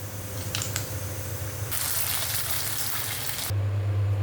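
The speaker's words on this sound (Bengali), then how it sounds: "কয়েকটা করে আমি ফুচকা ফ্রাই করে নিচ্ছি।" Fuchka puris frying in hot oil in a pan, a loud crackling sizzle with a low steady hum beneath, surging brighter midway and then cutting back abruptly.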